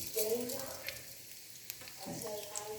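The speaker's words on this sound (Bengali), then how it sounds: "আমি ফার্স্টে পাঁচফোড়ন দেবো, দিয়ে আমি সব সবজিগুলো ভেজে নেব।" Vegetables fry with panch phoron spices for Bengali shukto, giving a faint crackling sizzle with light stirring scrapes and a brief tonal clink from the pan, heard alone and fairly close.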